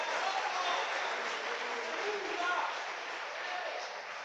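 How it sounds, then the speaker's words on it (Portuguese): Church congregation clapping at a Pentecostal teaching service, a moderate continuous patter of many hands with faint crowd voices mixed in, tapering slightly toward the end. "Aplauda Jesus de Nazaré."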